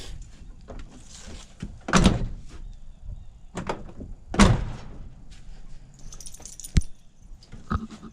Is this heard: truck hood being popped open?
yes